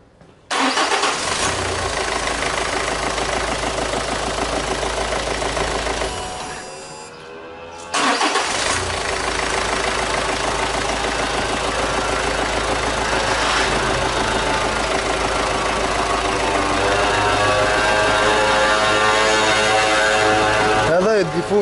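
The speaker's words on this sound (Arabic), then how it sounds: "ها باش نعاودو نخدمو الموتور يمشي ولا يخدم ولا لا." Renault 1.5 dCi diesel engine with a starting fault cranks and fires, runs loudly, cuts out briefly, then restarts and settles into a steady clattering idle close by, with some speech over it.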